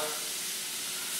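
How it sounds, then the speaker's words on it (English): Butter sizzles in a hot cast iron skillet as a steak is cooked, giving a steady, loud, close hiss with no pauses. "What we're going to do now is we're going to go ahead and hit it with some of that butter"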